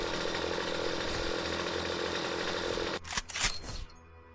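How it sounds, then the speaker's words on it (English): A two-bladed chainsaw weapon in the video game StarForge runs as a steady dense buzz for about three seconds, then cuts out into a few short sputtering bursts before fading. "There's a chainsaw with 2 blades."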